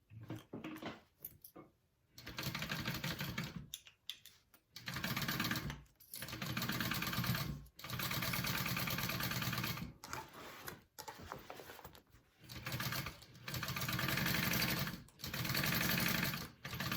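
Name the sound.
sewing machine stitching a handbag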